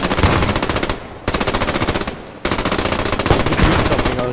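Loud, close automatic gunfire in the World War II shooter game Post Scriptum, fired in three rapid bursts with short pauses between them.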